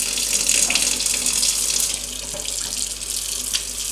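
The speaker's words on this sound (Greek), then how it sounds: "τις ξεπλένω τις μπριζόλες κάτω από το τρεχούμενο νερό" Tap water runs steadily into a kitchen sink as pork neck chops are rinsed under the stream. The rushing and splashing is close, continuous and fairly loud, with no voices.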